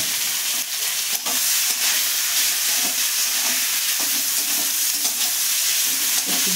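Chopped tomato and onion fry in oil in a pan, giving a loud, continuous sizzle with small crackles and stirring scrapes throughout.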